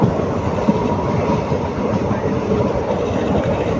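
Passenger train on the Dindigul to Udumalaipettai line running at speed, a steady loud rumble of wheels on rails with continuous rattling clatter throughout.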